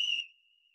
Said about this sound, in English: So right now, this whistle sound, if I solo it again